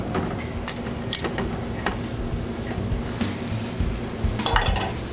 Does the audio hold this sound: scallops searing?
yes